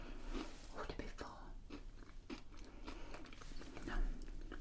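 Close-up crunching and chewing of a Hobnob biscuit, a series of sharp crisp bites and munching over several seconds, quiet and intimate in an ASMR setting.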